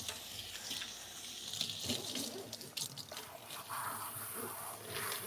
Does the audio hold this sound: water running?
yes